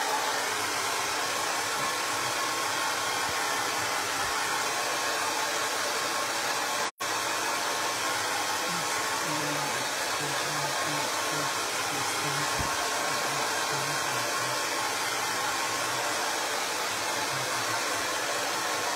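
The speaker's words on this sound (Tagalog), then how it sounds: "I-blower lang ako." Hair dryer blowing steadily for a long stretch, a loud broadband rush close by, with one sharp click partway through and faint low sounds underneath.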